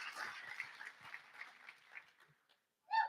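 Audience applause in a conference hall, a crowd clapping steadily for about two and a half seconds before fading out, followed by a brief closer sound.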